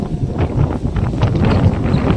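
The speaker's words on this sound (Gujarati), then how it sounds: "જો ખરા કેટલું બધું વાવાઝોડું." Strong windstorm gusts roar steadily into the microphone outdoors near farm fields, a dense low rumbling buffet with no pauses.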